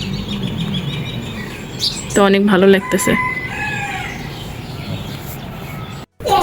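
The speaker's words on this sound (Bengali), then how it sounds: "এই যে পাখির কিচিমিচির ডাক" Morning outdoor scene with a rooster crowing loudly midway and birds chirping faintly in the background, while someone talks over it.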